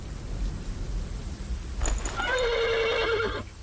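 A horse in the video game The Pillars of the Earth gives a loud, clear whinny after a brief thump, the neigh rising then trailing off over a low ambient background.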